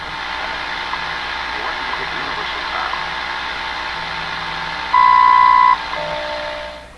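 Hissy, garbled shortwave radio reception on a Hallicrafters TW2000 receiver, with a steady noisy hash and muffled voice-like warble, plus a brief steady tone partway through.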